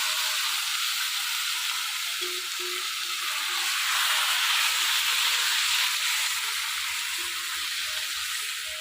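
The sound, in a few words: hilsa fish frying in hot oil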